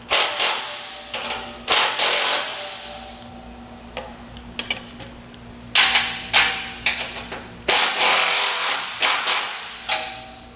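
A 14 millimeter socket works bolts loose on a two-tier kayak trailer, giving rapid ratcheting ticks in short bursts separated by brief pauses, close and loud.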